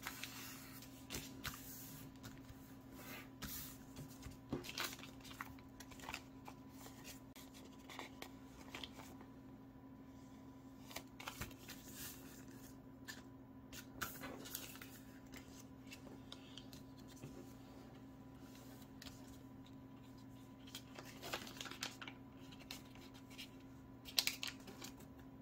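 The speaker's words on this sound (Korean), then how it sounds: "자, 그런 다음에 이렇게 삼각형으로 접어줍니다." Paper is creased and folded into a triangle while making an origami squid, giving soft, close crinkles and scattered light taps over a quiet background.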